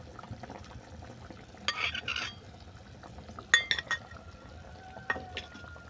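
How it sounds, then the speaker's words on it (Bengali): A spoon stirs mustard paste into a pankha fish and okra curry in a pot, giving soft scattered clinks and scrapes against the metal, a few brief louder knocks standing out over a quiet background. "সর্ষে বাটাটাকে ভালো করে মিশিয়ে নিচ্ছি"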